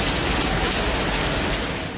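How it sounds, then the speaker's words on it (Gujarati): Heavy downpour with strong wind at Bistupur Chowk in Jamshedpur, a loud, dense, unbroken roar of rain close by, filling the whole moment with no voices. "અહીં ભારે પવન સાથે ધોધમાર વરસાદ વરસ્યો"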